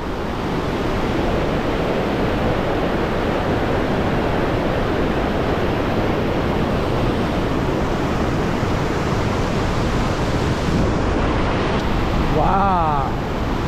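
Thunderous, unbroken roar of the Iguazu waterfalls in Brazil, a dense wall of rushing water that stays loud and steady throughout, with a brief voice near the end.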